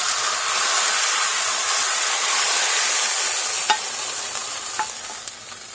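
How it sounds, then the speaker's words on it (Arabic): Hot garlic tasha sizzling loudly as it is poured onto Egyptian yellow lentil soup, a steady broadband hiss that runs the whole time and eases slightly near the end, with a couple of faint clinks. "بجيب العدس بتاعي كده واروح نازل بالطشة"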